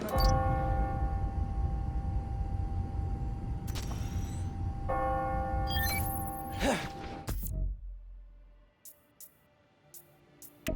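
Church-like bells ring on the hour in the video game Marvel's Spider-Man: Miles Morales, sounding over a dense layered background, several clear strikes in the first half before the mix drops to near quiet with a few faint distant chimes.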